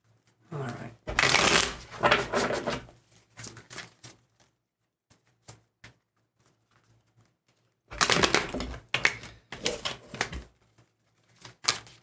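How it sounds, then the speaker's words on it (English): Tarot cards being shuffled by hand, two bursts of crisp riffling and flicking separated by a quiet pause with a few soft taps, close and moderately loud. "One more shuffle here."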